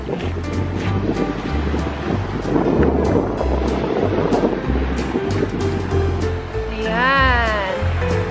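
Ocean waves washing onto the shore behind a home's seaside backyard in La Union, a steady surf with rolling swells and wind buffeting the microphone, while someone talks over it and a brief warbling tone appears near the end.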